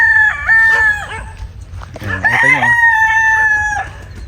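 Young molting bullstag roosters crowing nearby, strained and uneven, overlapping one another, with a few clucks between the calls.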